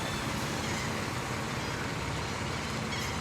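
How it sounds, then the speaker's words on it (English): A bus rushes past on a highway, loud and close, its broadband roar steady for several seconds amid traffic noise, with no talk. "let me let this bus pass real quick."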